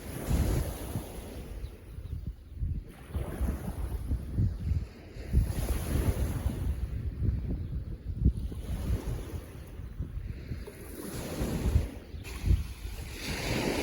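Waves roll onto a beach under gusty wind, surf surging and receding in slow swells while wind buffets the microphone with low rumbling, steady and close with no voices.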